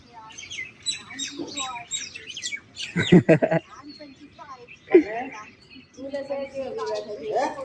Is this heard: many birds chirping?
yes